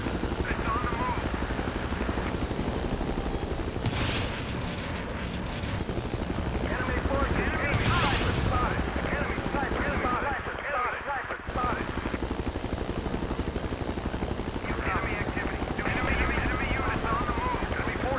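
Helicopter rotor thumping steadily through a video game firefight, with gunfire bursts mixed in and a player talking over the steady loud drone.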